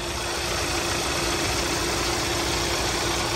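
A GDI car engine idles steadily and close, giving a continuous even hum with a faint ticking texture and no voices over it.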